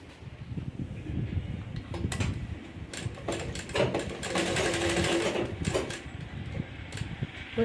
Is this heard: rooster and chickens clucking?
no